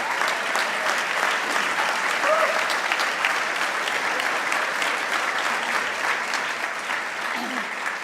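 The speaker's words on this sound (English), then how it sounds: "They were clapping too loud." A large audience at a speech on human trafficking claps steadily and loudly throughout, a dense continuous wash of applause with no pauses.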